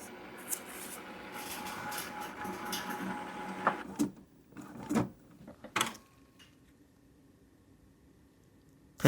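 Home printer running while printing foil proxy Magic: The Gathering cards, with a steady mechanical hum and a few sharp clunks and knocks of the paper-feed mechanism, after which the machine goes quiet.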